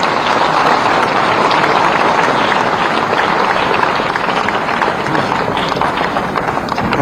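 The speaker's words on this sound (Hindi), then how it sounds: "इनके लिए एक बार जोरदार ताली दें।" Loud, dense applause from a large audience at a National Doctors' Day ceremony in Raipur honouring families of COVID warriors, sustained evenly without letting up.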